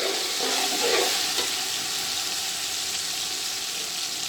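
Chicken fries and sizzles in a pot for a yakhni pulao, a steady bright hiss running evenly throughout with no voices.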